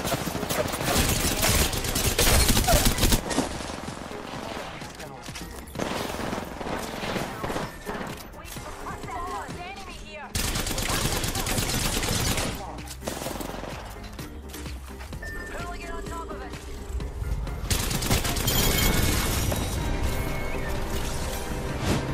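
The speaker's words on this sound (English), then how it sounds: "When you can handle the Havoc's accuracy, it's one of the fastest killing weapons in Apex." Rapid automatic fire from the Havoc energy rifle in Apex Legends, loud and dense bursts of shots with crashing impacts, continuing in waves with brief gaps and a mixed game soundscape around it.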